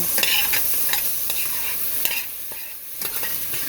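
Meat sizzling in a pan for vegetable fried rice, a steady hiss with repeated scraping stirs of a utensil, close and fairly loud, no voices.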